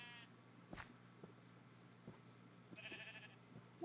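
Sheep in the Minecraft video game bleating twice, short wavering calls separated by a pause, faint over a quiet steady background.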